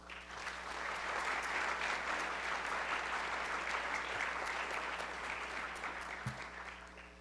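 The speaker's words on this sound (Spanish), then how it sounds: "Reconozcamos su trayectoria con un fuerte aplauso." Sustained applause from a conference audience, steady and full for several seconds before tapering slightly, with no voices over it.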